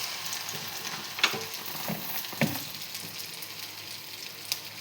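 Jackfruit masala fritters shaped like vada sizzle softly in hot oil, a low steady crackle broken by a few sharp pops, with no one speaking.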